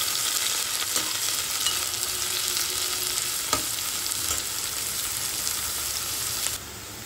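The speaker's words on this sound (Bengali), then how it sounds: "সমস্ত সবজিগুলিকে আমি খুব ভালো করে ভেজে নেব" Carrots, beans and capsicum frying in a pan for fried rice give a loud, dense, continuous sizzle with scattered spatula scrapes and taps, close up and without talk.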